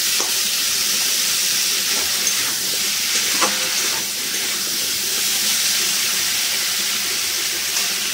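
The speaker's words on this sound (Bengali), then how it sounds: "এটাকে একটু ভালো করে কষিয়ে নেবো সবজিটা" Vegetables for khichuri sizzle and fry in a pan with steady hissing and occasional clinks of stirring, a loud, continuous frying sound with no talk.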